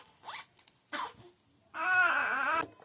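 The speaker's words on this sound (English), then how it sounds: "there's a zipper up here, and then there's a zipper down here" A zipper on a baby sleeper is pulled in one long, steady near stroke after a couple of short tugs, loud and close, with no talking over it.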